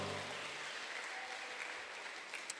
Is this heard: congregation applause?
yes